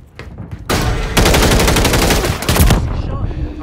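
Loud rapid automatic gunfire in Call of Duty MW3 on the Sub Base map during a Hardpoint match, with sustained bursts of close shots and a brief lull before more firing.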